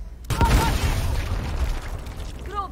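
Explosion in the tactical video game Gears Tactics: a loud, sudden boom bursts in after a brief quiet start and rumbles on under game effects, with voices and chatter sounding over it.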